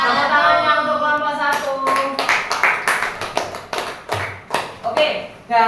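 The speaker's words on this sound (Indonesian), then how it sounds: "Tepuk tangannya untuk kelompok" Primary school science class clapping for a student group: a teacher's voice first, then children's hands break into loud, close, uneven claps and taps that settle into a rhythmic pattern, with voices mixed in.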